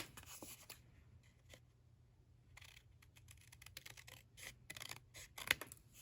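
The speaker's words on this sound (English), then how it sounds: "So I'm just lining it up and I'm just gonna cut it out." Scissors snipping through white scrap cardstock for a small mini album, quiet close crisp cuts in short irregular bursts that grow busier toward the end, with no talking.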